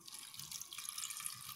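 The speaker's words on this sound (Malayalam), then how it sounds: "ഇനി നമുക്കിവിടെ ചേർക്കേണ്ടത് പാകത്തിന് വെള്ളമാണ്. അപ്പോൾ വെള്ളം ആഡ് ചെയ്ത് കൊടുക്കുക." Water poured into a pot of dal and drumstick curry while cooking, giving a quiet, steady splashing trickle close by that runs for the whole stretch with no voices.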